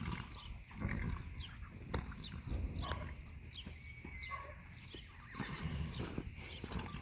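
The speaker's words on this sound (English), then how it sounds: "George, you're on a donkey. Again" Hooves clip-clop steadily while a donkey brays and whinnies nearby, with faint barking and outdoor ambience in the background.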